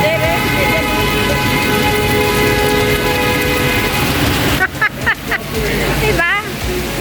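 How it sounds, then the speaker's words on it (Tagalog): A steady, dense roar of heavy rain pours throughout on Orchard Road, Singapore, then someone speaks briefly near the end over the downpour. "Ayan guys, yung ulan. Lakas ng ulan guys."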